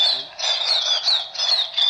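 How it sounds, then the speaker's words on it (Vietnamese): Bird calls played from a WS 898 bird-trapping speaker, a loud, shrill repeating chirping phrase in steady pulses, close and alone. "em đã tải cho bác đầy đủ tiếng chim rồi."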